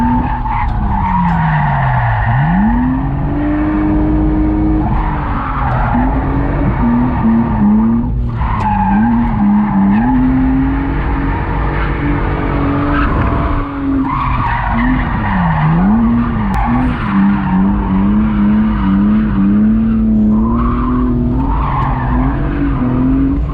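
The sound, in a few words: drift car skidding with squealing tires during laps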